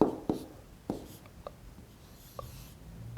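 A pen or marker writes out a math answer in short, soft scratching strokes, a few quiet taps and scrapes spaced across a few seconds close to the microphone.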